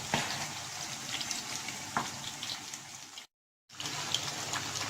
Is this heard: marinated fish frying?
yes